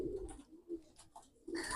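Pigeons or doves cooing, soft low repeated coos from a few nearby birds with short gaps between calls, heard alone.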